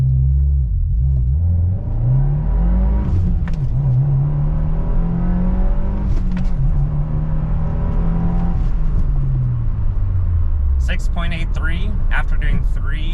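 Subaru WRX Limited (2022-23) with a manual gearbox accelerating hard from 0 to 60 mph, the engine note rising through gears with clear drops at each shift, loud and close from inside the cabin, ending in a final high-revving surge.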